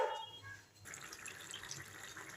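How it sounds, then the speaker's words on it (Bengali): Water is poured into a pan of sautéed vegetables for a fish and spring onion curry, a soft, quiet rush of liquid that swells after a brief lull. "এর মধ্যে আমি জল দিয়ে দিলাম"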